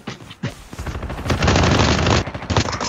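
Rapid automatic gunfire in a battle royale video game, a long sustained burst of fast shots preceded by a few scattered single reports, loud and close with no one speaking.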